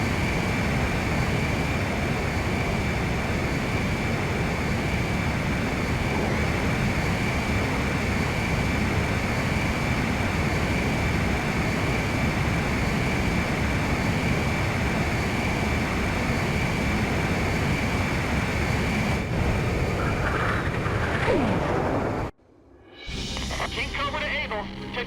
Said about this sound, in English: 1 mile to refueling craft. 100 yards to go. Perfect, Blaze. Commencing refueling